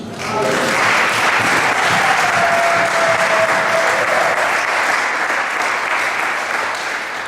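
A church congregation applauds in one steady, loud, continuous wave of clapping lasting several seconds, with faint voices mixed in.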